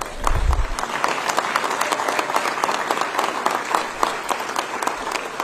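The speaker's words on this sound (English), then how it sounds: "You guys can clap for Chris" Audience applause fills a Toledo Hockey Hall of Fame ceremony hall, steady dense clapping from a sizable crowd lasting several seconds, with a brief low thump near the start and no talk over it.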